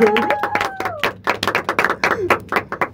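Hands clapping in a podcast studio, a burst of quick, uneven claps close to the microphone lasting a few seconds, with a brief voice and whistling-like tones at the start.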